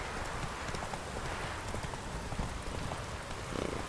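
Steady rain falls in The Witcher 3: Wild Hunt, a dense continuous hiss of drops on the ground, with soft horse hoof clip-clops mixed in beneath it throughout.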